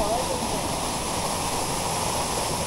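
Roaring waterfall at a rocky cliff pool after the first monsoon rain, a loud, steady, broadband rush of falling water with no break.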